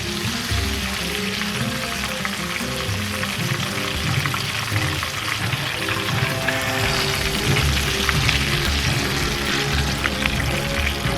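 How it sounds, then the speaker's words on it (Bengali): Korean-style chicken wings deep-frying in hot oil, producing a loud, dense, constant bubbling crackle that fills the whole stretch without pause or talking. "আমি উইংসগুলো ভেজে নিলাম"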